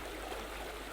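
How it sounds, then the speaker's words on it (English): River water flowing in a steady, faint, even rush with no other sounds over it. "This is a river."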